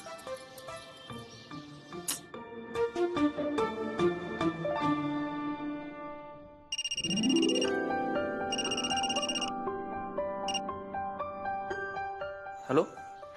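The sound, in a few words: telephone ringing while placing a call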